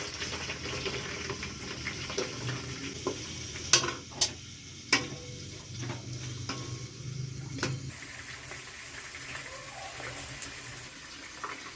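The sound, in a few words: onions frying in hot oil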